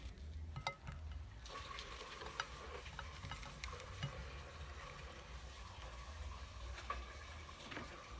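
Ackee and saltfish fry quietly in a pan, giving a soft, steady sizzle. Scattered light ticks and scrapes come from stirring, close by but low in level, with no voices over it.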